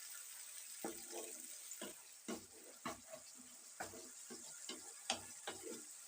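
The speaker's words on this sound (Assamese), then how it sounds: "পেষ্টটো ধুনীয়াকৈ ভাজি ল'ব, ভালদৰে ভাজি ল'ব" Spice paste sizzles softly in oil, with repeated scraping and knocking of a spoon against the pan at an irregular pace.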